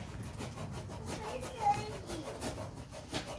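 A blunt knife saws through dry, sun-baked cardboard for a homemade Christmas fireplace. The rasping, scraping strokes repeat rapidly and fairly evenly at close range.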